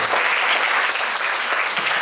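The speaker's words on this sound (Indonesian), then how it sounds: "Tepuk tangan." Dense, steady applause from an audience of young students at an inspirational school talk, loud and continuous for the full two seconds.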